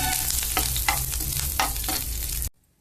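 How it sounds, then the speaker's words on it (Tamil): Red chillies, tamarind and curry leaves roast in hot oil with a loud, close, continuous sizzle, punctuated by several stirring scrapes, before cutting off abruptly into silence. "அடுத்து இந்த மிளகா, இந்த புளி, கருவேப்பிலை எல்லாத்தையும் போட்டு எண்ணெயில் வறுத்துக்கணும்."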